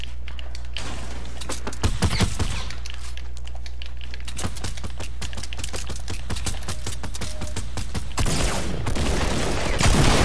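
Rapid bursts of automatic gunfire in the video game Fortnite crackle through nearly the whole stretch, dense and loud over a steady low hum, with a heavier burst near the end.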